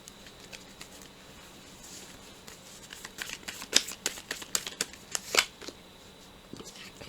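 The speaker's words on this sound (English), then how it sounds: "I have to redraw these cards here" Tarot cards being shuffled and riffled by hand in a quiet room, a soft continuous rustle with a cluster of sharper flicks and snaps toward the middle, fairly close.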